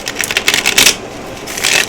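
Tarot cards are shuffled up close in loud, crisp bursts of riffling and flapping, with short pauses between them.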